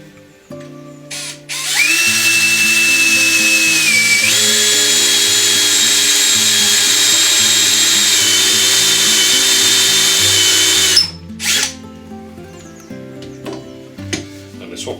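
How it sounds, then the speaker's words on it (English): Power drill boring holes in wood for a stick chair, a loud steady whine held for about nine seconds before stopping abruptly, with brief handling noises before and after. "So the drill is centered so it follows that line."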